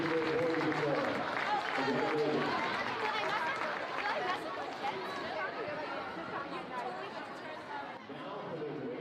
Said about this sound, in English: Big round of applause for the Westerly Middle School boys and girls